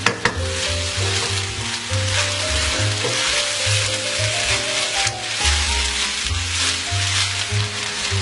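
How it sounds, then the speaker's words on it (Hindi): Rice for prawn fried rice stir-fries in a pan over full heat, a loud steady sizzle broken by the repeated scrape and scuff of stirring, close up, with no voices. "तो हमने इनको राइस को अच्छे तरीके से मिक्स कर लिया है।"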